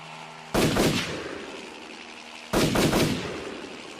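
Two sharp bursts of gunfire aimed at a helicopter, each a loud crack followed by a rattling echo that decays over about a second, spaced two seconds apart.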